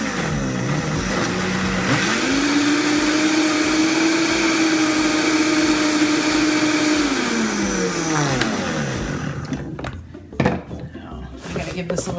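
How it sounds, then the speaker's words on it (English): A kitchen blender loaded with spinach and cocoa powder whirs loudly, its motor pitch rising then holding steady for several seconds before winding down, followed by a few knocks and clatters near the end. "And I'm going to turn my blender on."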